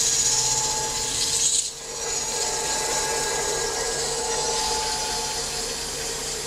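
Strip of 320 grit sandpaper held against a spinning wooden workpiece on a lathe, giving a steady, continuous close abrasive hiss with a faint motor hum and one brief dip partway through.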